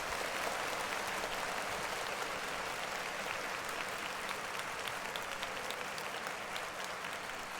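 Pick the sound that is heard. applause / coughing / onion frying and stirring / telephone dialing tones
applause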